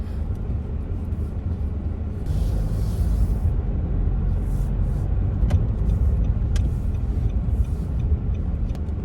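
Road traffic rumbling past the inside of a moving van, a dense low steady roar with faint hiss and occasional brief clicks, continuous throughout with no talk.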